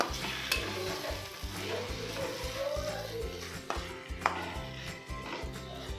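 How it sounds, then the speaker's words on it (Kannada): Egg masala sizzles and fries in a pan while a spoon stirs and scrapes through it in repeated strokes, close and clear, with occasional clinks against the pan. "ಇಲ್ಲಿ ಕಟ್ಸ್ ಹಾಕ್ಕೊಂಡು ಈ ಥರ ಹಾಕ್ಕೊಂಡು ಇದರಲ್ಲೇ 2 ಮಿನಿಟ್ಸ್ ಚೆನ್ನಾಗಿ ಫ್ರೈ ಮಾಡ್ಕೋಬೇಕು"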